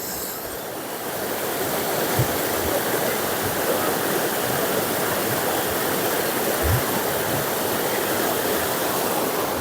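Steady broadband rush of flowing water at Chae Son hot spring in Lampang, continuous and fairly loud throughout with no voices.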